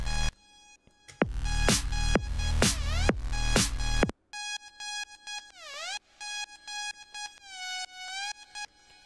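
Bright, high-pitched synth lead in an FL Studio EDM track, a run of sharp buzzy pulsing notes with swooping pitch bends, loud at first, then a thinner filtered passage after a short break, with no voices.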